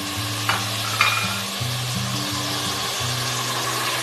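Meat for nalli nihari and paya frying in a pot as ginger, garlic and spices are stirred in: a steady sizzle with scraping spoon strokes and a faint low hum underneath, no talking.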